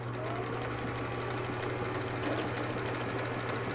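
A sewing machine runs continuously while stitching the hem of a turban, a steady motor hum with rapid needle chatter at an unbroken pace.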